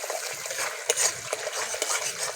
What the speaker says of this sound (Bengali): সব কিছু ভালো করে মিশিয়ে ভালো করে কষিয়ে দেব।